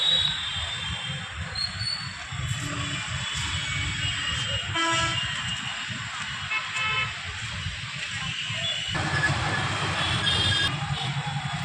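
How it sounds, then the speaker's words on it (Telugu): A train at Vijayawada railway station, heard as low rumbling rail noise with faint horn toots and a busy station background. "రైల్వే విజయవాడ స్టేషన్ అనమాట ఇది."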